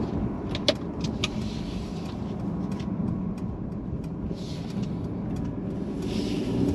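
A 2022 Mercedes-Benz C300 4Matic drives along twisty roads, heard from inside as a steady low road and engine rumble with a few faint clicks and rattles, no talking.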